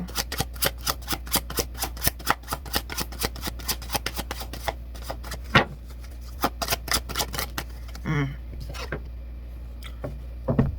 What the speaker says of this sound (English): I know I shuffled this deck good